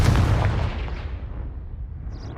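A Confringo fire spell from Hogwarts Legacy bursts as a loud, booming blast that decays into a rumbling, fading tail over two seconds.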